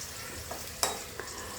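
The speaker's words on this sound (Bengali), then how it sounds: "হলুদ আর লবণ দিয়ে কিছুক্ষণ ভাজব।" Food fries in a pan with turmeric and salt, giving a faint, steady sizzle with two or three quick stirring scrapes, one louder than the rest, and no talking.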